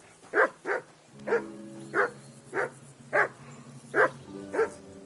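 A hungry dog in Kingdom Come Deliverance 2 barks repeatedly and close up, giving eight loud woofs in uneven pairs and singles with brief whimpering tones between them.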